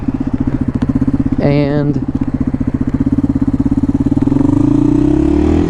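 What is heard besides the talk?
1993 Yamaha XT225 motorcycle engine off road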